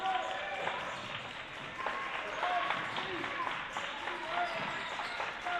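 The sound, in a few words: Botkins bench applauding their defense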